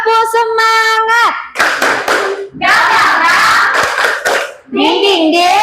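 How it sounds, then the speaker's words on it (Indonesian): A class of children claps out a rhythmic spirit-clap routine in an Islamic lesson, bursts of hand claps alternating with chanted, sung-sounding voices, close and loud. "Kita mulai. Tepuk semangat."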